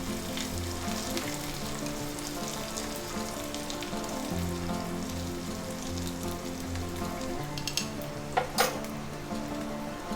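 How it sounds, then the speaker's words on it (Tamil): Chopped small onions sautéing lightly in a pan, a steady close sizzle and crackle with a couple of brief stirring clinks near the end. "சும்மா லைட்டாக அதில் வதக்கினா போதும்."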